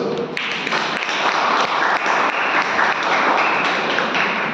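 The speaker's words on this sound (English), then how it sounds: "let's have a loud round of applause for all these speakers" A loud round of applause from a Toastmasters meeting audience honouring the session's speakers, dense and steady clapping from many hands throughout.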